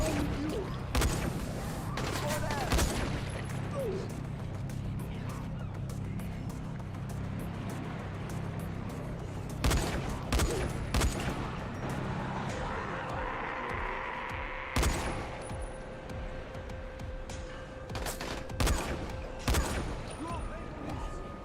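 Police rifle shots in the game Dying Light, sharp isolated reports spaced irregularly through the stretch, moderately loud over low ambient rumble and occasional talk.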